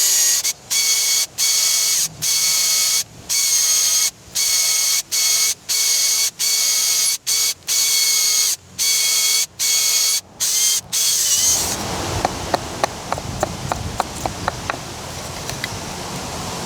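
A loud power drill whines in about a dozen regular bursts with short gaps while drilling around brass tubes in a concrete column, then gives way to a lower grinding, rattling sound.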